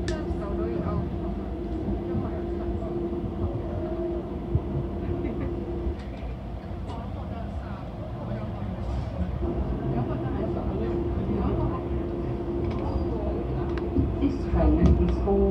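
A DLR light-rail train runs between Stratford and Canary Wharf, a steady rumble of wheels and motors holding throughout at close range, with an onboard announcement voice heard over it.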